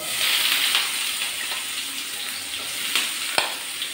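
Chopped onions fry in hot oil in a frying pan, giving a steady close sizzling hiss with a few light clicks of stirring and no talk.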